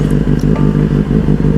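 A Benelli 600i motorcycle engine running loud and close, with a throbbing, rapid pulsing idle and brief revs, a steady mechanical rumble with no talk over it.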